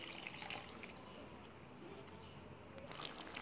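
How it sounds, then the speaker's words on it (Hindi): A cup of water is poured into a honey chilli sauce for crispy honey chicken bites, making a faint, continuous splashing hiss. "अब इसके साथ जाएगा 1 कप पानी"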